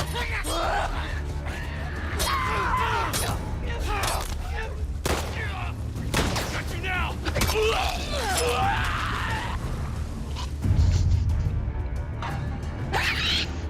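Gunfire in The Last of Us Part II as human survivors and infected threaten, with bursts of shots and impacts amid a dense, busy game mix, including a heavier thump near the end.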